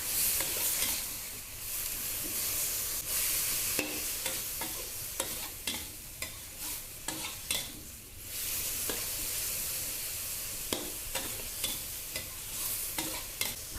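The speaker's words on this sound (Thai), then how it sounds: "ถ้ารู้สึกว่าผัดยากให้เติมน้ำเปล่านะคะ ไม่ต้องเยอะนะแค่นิดเดียว เดี๋ยวผัดต่อค่ะ" Mee sua noodles and pork are stir-fried in a pan with a moderate sizzle, broken by frequent scraping and clattering of a spatula against the pan.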